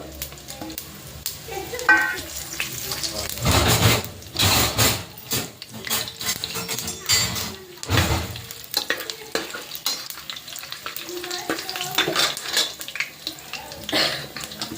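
Whole spices (cinnamon, clove, fennel, bay leaf and marathi moggu) fry in a pan for a pulao-style biryani, sizzling loudly as a spoon stirs and scrapes, with bursts of clatter against the metal.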